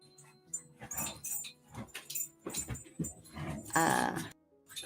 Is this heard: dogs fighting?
yes